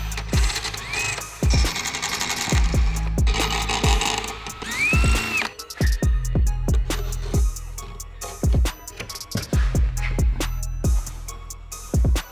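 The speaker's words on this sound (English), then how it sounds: "let's get to drilling. Let's pop out some rivets" Drill bit working rivets out of a car body, heard as a string of sharp mechanical bursts and ratcheting clicks with brief whining spins, close and fairly loud, no talking.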